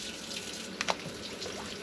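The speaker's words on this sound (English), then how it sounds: "we're gonna plop it in this slightly boiling water" A razor clam is dropped into slightly boiling water, making one soft, brief plop amid a steady watery hiss.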